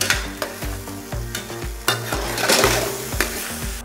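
A spoon scrapes rhythmically through chicken masala as sugar is stirred in a hot pan, sharp repeated strokes over a continuous close sizzle, for a dhaba-style clay pot chicken.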